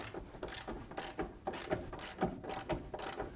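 A ratchet wrench works loose the factory lap belt mount bolt in a ramp truck, giving a steady run of quick, close mechanical clicks in repeated bursts.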